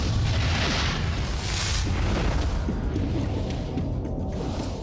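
A dramatic explosion from a planet-destruction documentary sequence: a sustained, loud, rumbling roar with deep low-end boom and broad crackling noise, holding steady for several seconds without fading.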